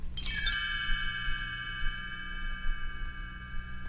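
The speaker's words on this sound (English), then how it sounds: "when you hear the chimes ring like this" A single bright chime signalling a page turn in a read-along storybook rings out clearly and then lingers, its tone slowly decaying over a few seconds with nothing else sounding.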